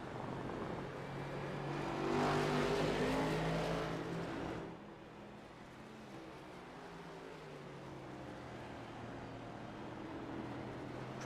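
Race cars lap Indianapolis Motor Speedway in a SPEED Cup Series race. An engine drone swells to a peak as a car passes, then eases off into a fainter, steady distant hum.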